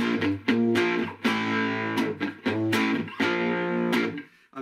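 Distorted 22-inch short-scale cigar box guitar through a single coil pickup into a low-gain 70s-style amp channel, playing loud sustained chords in a steady rhythm with short pauses between strums.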